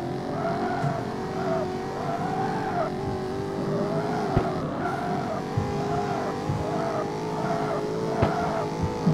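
Car engine revs and tire squeal from a drifting car in the CarX Street racing game, a sustained wavering engine tone with a few sharp ticks, loud and steady, no talk.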